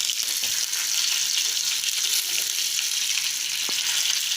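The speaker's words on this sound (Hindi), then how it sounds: "तेल गरम हो गया है। अब हम इसमें डालेंगे सरसों के दाने, आधी छोटी चम्मच। अब हम डालेंगे इसमें करी पत्ता" Mustard seeds and curry leaves sizzle in hot oil as a tempering for rava dhokla, a steady close frying hiss with a faint pop or two and no talk.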